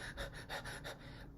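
A lecturer imitates rapid, shallow tachypneic breathing: about five quick, even pants in a steady rhythm, close and clear with no words spoken.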